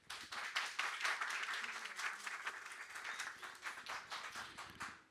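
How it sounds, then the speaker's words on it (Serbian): An audience applauds to welcome Montenegrin environmental activist Vuk Vujisić, sustained fairly quiet clapping from many hands with distinct individual claps, swelling early and tapering toward the end. "Želim da ga pozdravimo aplauzom."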